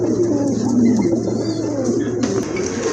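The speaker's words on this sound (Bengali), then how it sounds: "ব্ল্যাক বোম্বাই কবুতর, মাশাআল্লাহ অলরেডি কিন্তু দুইটা বাচ্চা আছে।" Black Bombai pigeons coo steadily in a loft, a dense, continuous murmur of overlapping low calls from several birds close by, with no voices.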